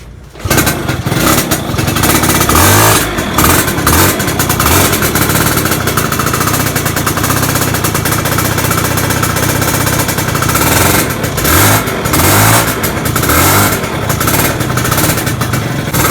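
A motorcycle with a newly installed RC CDI unit fires up and runs loud and steady, a rough, rapid popping idle with repeated throttle blips over about fifteen seconds.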